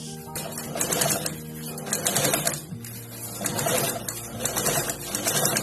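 A sewing machine stitches the corner of a small fabric party bag, a close rapid mechanical whirr in repeated bursts with brief stops and shifts in speed.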